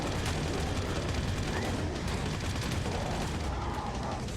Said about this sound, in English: a chain gun or a minigun, which is really good fun to use